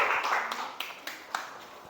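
Scattered claps from a classroom of students applauding the group that has just presented, a few sharp separate hits standing out over a soft rustling bed, fairly quiet and brief.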